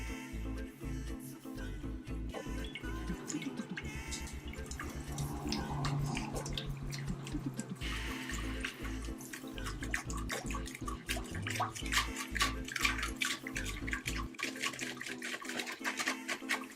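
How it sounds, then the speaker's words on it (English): Water runs steadily from a tap while lye is slowly poured in and stirred with a wooden spoon during homemade soap making, with intermittent low knocking and clattering throughout. "We're going to slowly add the lye to the water, and I'm going to use a wooden mixing."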